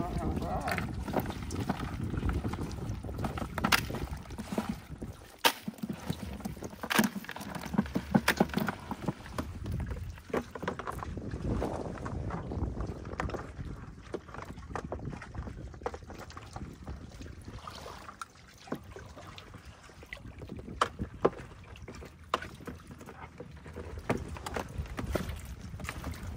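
A boat pushed through fast-rising flood water in An Giang, with wind buffeting, sloshing and knocking under people talking nearby throughout.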